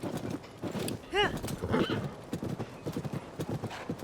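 In Zelda: Tears of the Kingdom, a golden horse's hooves clop rapidly and steadily while it lets out a sharp neigh and a shorter second whinny, fairly close, with someone talking over the game sounds.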